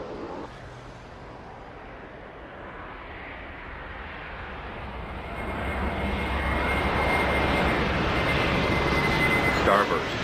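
A jet airliner takes off in the airport simulation game Airport Madness 4, its engine roar swelling steadily louder over about ten seconds, with a whine building toward the end.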